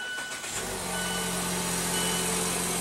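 A 2016 Mazda CX-5 with a 2.5-liter SkyActiv inline four-cylinder is push-button started at an auto show. After a brief crank it settles into a steady, close idle hum that holds to the end with no talk.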